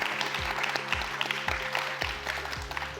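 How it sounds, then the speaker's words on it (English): Audience applause at a DevFest Silicon Valley tech panel, a dense, close patter of many hands clapping steadily for a few seconds with no talk over it. "Let's give them a round of applause."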